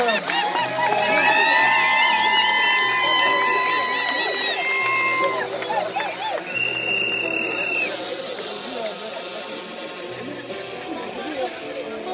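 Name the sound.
wedding guests cheering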